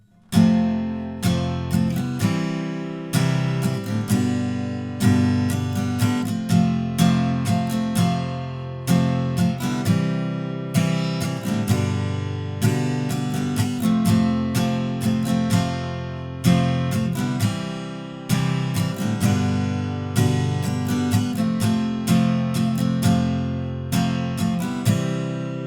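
Strummed guitar chords from the chorus of a song, played in a steady, driving rhythm of repeated downstrokes, full and close, with no voices over it for about twenty-five seconds.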